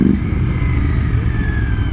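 A Royal Enfield Interceptor 650 rides along with a steady, close engine drone and road rumble, a low throbbing hum that holds constant with a faint rising whine on top.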